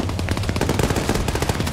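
Rapid bursts of .50 caliber machine gun fire in a video game match, a dense rattling string of shots, loud and close, with no talk over it.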